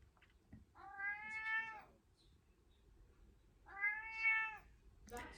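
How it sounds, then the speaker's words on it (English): A hungry cat gives two long, drawn-out meows separated by a short quiet gap, close by and fairly clear. "I've got to go and feed the cat."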